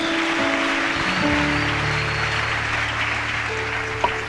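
Congregation in a church applauding and cheering together, a dense steady wash of clapping with sustained voices and tones underneath, loud and continuous throughout.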